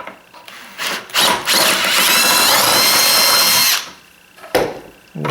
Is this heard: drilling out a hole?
yes